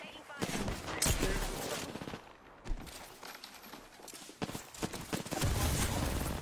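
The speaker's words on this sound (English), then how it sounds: "Open fire on the enemy." Gunfire in the video game Apex Legends, with loud bursts of shots and rapid volleys coming in waves, some of them close. A voice talks over part of it.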